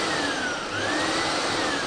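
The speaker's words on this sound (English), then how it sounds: "So to run the vacuum, keep the vacuum on here, and then you can use the switch on here" Pure i6 industrial self-descaling steam and vacuum cleaner running with a steady, loud motor whine and broadband airflow hiss, a faint rising tone drifting through, with no talking.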